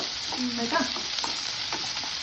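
Sliced onions sautéing in a pan as the base for Nepali jhol momo, a dense continuous sizzle with stirring scrapes, and a brief voice speaking over it.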